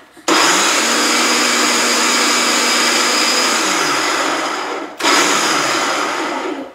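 A countertop blender whirs steadily as it mixes a Greek yogurt dip, running loud and close for about five seconds, cutting out briefly, then starting again in a second short burst.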